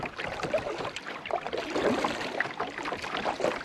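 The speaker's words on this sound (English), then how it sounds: "Hopefully this will give you some idea of what the paddling looks like here." A kayak is paddled on the Sabine River, with soft rhythmic paddle strokes dipping and splashing in the water, close and fairly quiet.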